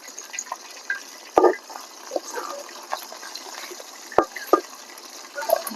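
Snakehead fish frying in a pan gives a soft, continuous sizzle and bubbling oil, broken by a few sharper spits and pops, heard up close with no talking.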